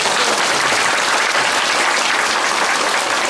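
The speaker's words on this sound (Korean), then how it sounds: "박수." An audience at a lecture bursts into dense, loud clapping that holds steady for a few seconds, with no voices over it.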